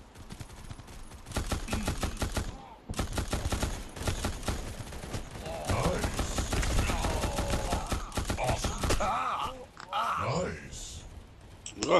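Fortuna machine gun firing in the mobile shooter Guns of Boom: repeated rapid bursts of automatic fire, loud and close, broken by short pauses, with game effects and someone talking over parts of it.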